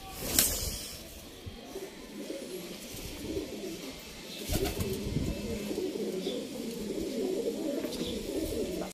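Domestic pigeons coo softly and repeatedly in a backyard loft, standing in front of the male pigeons' house, with a low murmur of background noise throughout.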